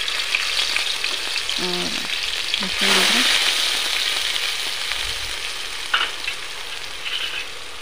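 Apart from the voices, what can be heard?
onions and cumin frying in oil in a kadhai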